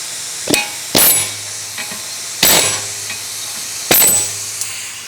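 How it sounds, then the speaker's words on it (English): A big pneumatic air hammer knocks out wheel studs during a Mazda6 front brake upgrade, firing in three loud, sharp bursts of a second or so each, with short clanks and quiet gaps between them. "we got the big air hammer out here, so plug your eyes and close your ears again"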